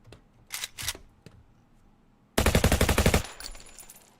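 Rapid automatic gunfire from the video game Unturned during a recoil test: a sustained, loud burst of closely spaced shots lasting about a second, preceded by a few isolated clicks and followed by a faint tail, with no talking.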